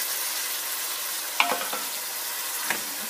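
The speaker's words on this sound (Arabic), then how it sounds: "نقليو مليح هاد الدجاج تاعنا خويتاتي هكدا نقليوه مليح مزيان" Chicken pieces frying in oil in a pan, a soft continuous sizzle with a couple of sharp clinks from stirring, fairly close and steady; no talking.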